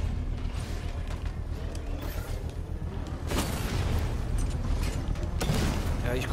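Tank destroyed by a single shot in Batman: Arkham Knight, heard as a dense game soundscape of mechanical rumble with heavy booms, a strong blast surging at about three seconds and another near the end.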